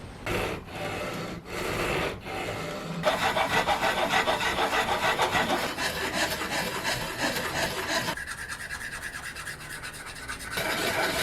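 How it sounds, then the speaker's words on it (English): A hand rasp and file shape a wooden guitar neck. It starts with a few separate rough strokes, then a continuous loud, gritty scraping that changes tone as the tool and pace shift, with no voices. "I'm going to try and go by hand from now using rasps, files and sandpaper"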